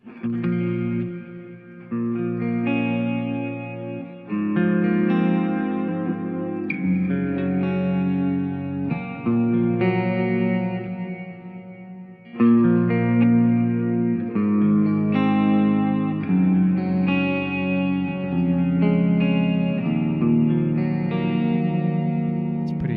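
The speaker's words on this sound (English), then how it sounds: "Fascinating reverb." An electric guitar plays chords and melodic phrases through the Glitz digital reverb in the Helix Native plugin, a lush, shimmering reverb that leaves long, washy tails between notes.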